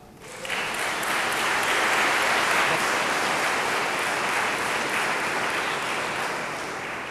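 Steady applause from a college winter commencement crowd, rising quickly and holding loud and full for several seconds before tapering slightly.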